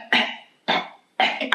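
Three harsh, separate coughs from one person close to the microphone, evenly spaced with short silences between them.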